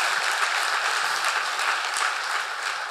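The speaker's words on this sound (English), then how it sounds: "So if we could just have a quick round of applause for them" Steady applause from a keynote audience fills the hall, dense and even, with no voices over it.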